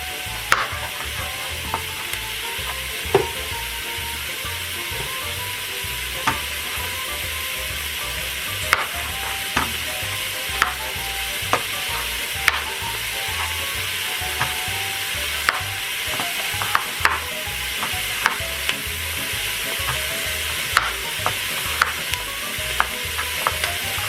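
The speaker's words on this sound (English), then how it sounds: "So you can hear that starting to sizzle in there." Vegetables sizzling and frying while sautéing in an Instant Pot for minestrone soup, a steady close hiss with scattered sharp crackles and pops throughout, no talking.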